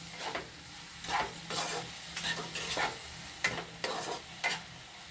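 A spoon stirs vegetables for poha in a pan, scraping in a steady rhythm of about eight close strokes over a soft sizzle, with no talking.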